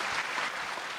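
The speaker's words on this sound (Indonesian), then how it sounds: "boleh tepuk tangan sekali lagi buat Mukmin." Studio audience applause at a televised stand-up comedy grand final, a steady dense wash of clapping lasting about a second with no voices over it.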